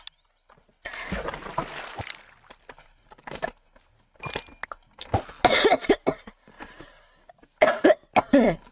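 A girl coughs repeatedly in several clusters of harsh, close bursts separated by short pauses, with faint footsteps and light clinks in between.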